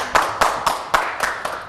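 Studio audience on an Italian TV cooking show clapping, a handful of sharp, separate claps in a loose rhythm, close and fairly loud.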